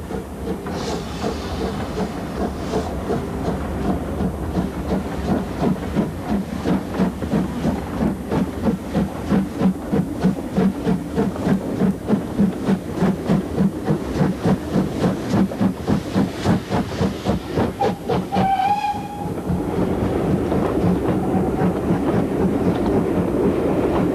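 The steam locomotive City of Truro runs along a heritage railway, chuffing in a fast steady rhythm with rolling wheel clatter, a brief high whistle-like squeal near the end, then continued running noise, loud and close.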